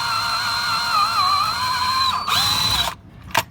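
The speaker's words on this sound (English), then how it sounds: "that rivet is drilled out and just hanging on the end of my screwdriver there" Power drill boring out a rivet on a Classic Mini near the battery cable: a loud, close, steady whine that bogs down briefly, then stops with a few clunks.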